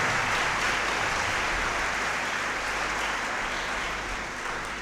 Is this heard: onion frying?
no